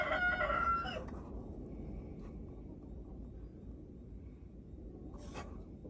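A rooster crows loudly close by at the start, one drawn-out call, then a low steady background hum follows with a faint short sound near the end; no one speaks.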